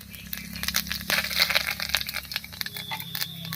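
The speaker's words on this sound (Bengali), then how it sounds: "তেল গরম হয়ে গেছে এবারে গোটা জিরা তেজপাতা দিয়ে ফোড়ন দেব" Whole cumin and bay leaves crackle in hot mustard oil, a close, busy run of sharp pops and snaps lasting a few seconds.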